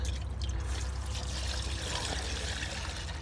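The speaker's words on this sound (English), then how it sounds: "we're just gonna start putting filling the jug" Warm sugar water pours steadily into a bee feeder jug outdoors, a soft continuous trickle and splash at low volume with no talking.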